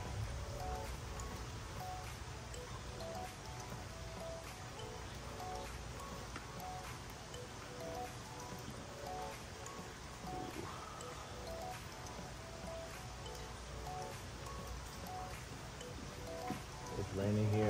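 Heavy rain falls outside during work on a BMW door handle, a dense, steady hiss of drops filling the background throughout with little change in level.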